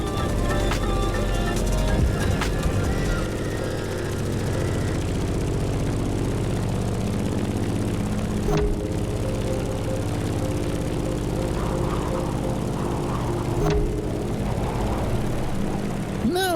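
A propeller plane in The Crew Motorfest flies with a steady, loud engine drone running through the whole stretch, with a few brief sharp transients partway through.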